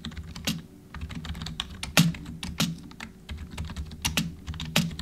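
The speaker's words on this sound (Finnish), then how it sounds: "tämähän on kumikupunäppäimistö" Someone types on a Xunfox K820 membrane (rubber-dome) keyboard with RGB lighting, producing a quick, uneven run of soft, close keystrokes with a few heavier thumps among them.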